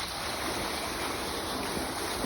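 Water gushes steadily from a solar pump pipe, a continuous loud rushing splash with no pauses.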